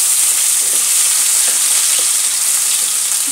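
An onion and poppy seed paste fries in a pan for egg curry, giving a loud, dense, unbroken hiss of sizzling close by, with faint stirring bumps beneath.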